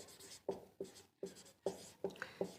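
Pen or chalk strokes writing a maths equation by hand during a class 10 lesson, six short scratchy strokes in an uneven rhythm, close and fairly quiet, with no talking.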